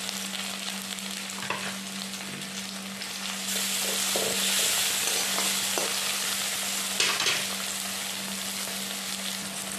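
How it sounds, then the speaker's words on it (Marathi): Onion and tomato for a prawn curry sauté in a pan, a steady sizzle that swells louder midway, with intermittent spoon scrapes and stirring knocks under a constant low hum. "कांदा आणि टोमॅटो एकत्र भाजून घ्यायचे व्यवस्थित"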